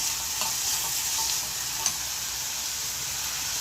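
A pav pizza mixture with tomato and black pepper sizzles steadily in a pan on the gas stove, a bright, even hiss with a few faint stirring scrapes, no voices.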